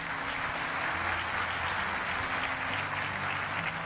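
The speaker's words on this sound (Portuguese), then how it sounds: "Rapidinho aqui, você pode aplaudir." Steady, dense applause from a large crowd fills the whole stretch, even and continuous with a faint low hum underneath.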